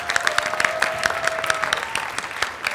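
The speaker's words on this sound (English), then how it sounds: "please welcome and cheer on Andrew Volk" A live audience at a PechaKucha night in Portland, Maine applauds and cheers to welcome a presenter onstage, with dense, steady clapping and a few shouts running throughout.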